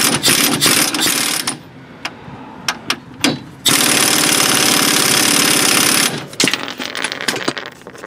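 A ratchet or power tool tightens bolts on a Hyundai Elantra steering knuckle, with bursts of clicking and mechanical rattling, then a sustained loud whirring run, followed by more scattered clicks and clunks nearby.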